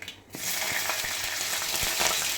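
Green chilies hit hot oil with mustard and cumin seeds, bursting into a loud, steady close sizzle after a brief quiet start, with occasional small crackles and pops.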